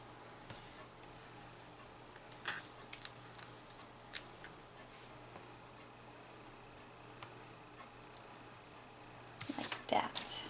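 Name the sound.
scissors cutting card paper in half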